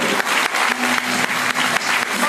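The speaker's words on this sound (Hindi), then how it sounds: "यीशु मसीह के लिए जोरदार तालियां बजाएंगे" Audience applause for Jesus Christ at a Hindi-language worship gathering, a dense, steady wash of many hands clapping together, loud and sustained without voices.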